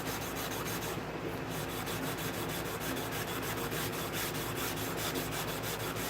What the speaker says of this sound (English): By sanding one just a little bit.